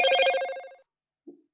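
A phone notification tone for an incoming bank text message rings as one bright chime that fades over most of a second. A short, soft blip follows after a brief silence.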